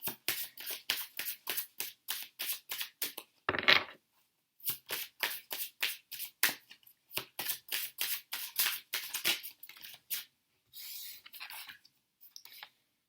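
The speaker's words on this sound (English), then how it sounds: "I'm just going to shuffle all of these cards out as well." Tarot cards shuffled by hand in a steady run of crisp riffling bursts, each a short papery flutter, with a brief louder shuffle and a pause partway through; close and clear, no talking.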